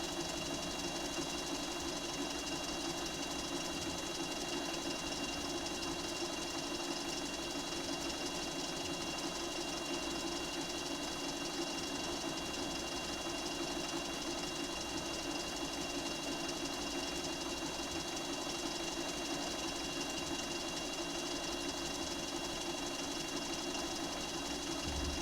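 A sewing machine stitches a Pokémon appliqué quilt with a continuous, even mechanical whir that runs loud and unbroken throughout, with no pauses and no voices.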